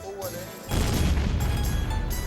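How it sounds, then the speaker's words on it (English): A sudden deep boom erupts after a quiet moment and rolls on as a sustained, heavy low rumble from dam construction blasting in 1960. "in setting off the first round of explosions."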